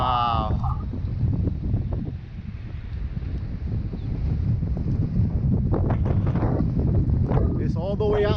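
Strong wind of 30-35 mph buffets the microphone as a DJI Ryze Tello micro drone flies outdoors, a loud continuous roar with gusty swells and brief voices talking over it.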